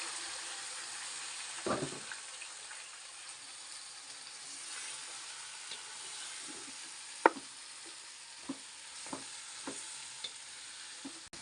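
Beef and onions frying in a pan: low, steady sizzle with scattered sharp scraping and stirring knocks, close by, no talk.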